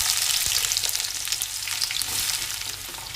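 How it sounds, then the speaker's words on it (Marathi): Chopped onion frying in ghee for Kolhapuri chicken masala, a bright steady sizzle close up with a single soft knock early on and faint stirring movement. "कांदा भाजून घेऊया छान."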